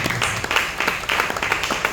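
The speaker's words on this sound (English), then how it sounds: "Please, a round of applause for her." Audience applause at a workshop on ending poverty, a steady wash of scattered clapping that fills the short span at moderate level, with no talk over it.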